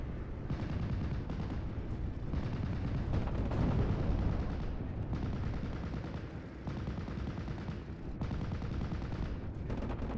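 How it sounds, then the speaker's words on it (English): Marauder aircraft carry out bombing runs amid artillery fire in a WWII strategy game, a continuous loud barrage of overlapping blasts and gunfire with rolling low rumble and no voices. "These marauders just doing massive bombing runs, blind bombing in fact also"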